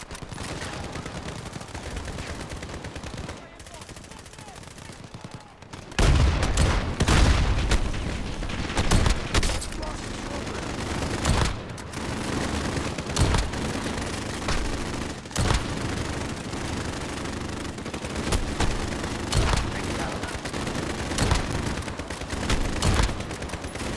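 Rapid gunfire in a multiplayer Modern Warfare shooter game, dense bursts and single shots crackling loudly and continuously after a quieter opening few seconds, with no talk over it.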